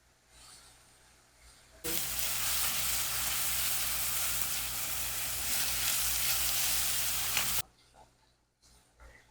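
Chopped onion sizzles loudly in a hot pan for about six seconds, a dense, steady frying hiss that starts abruptly and cuts off, with quiet kitchen sounds before and after.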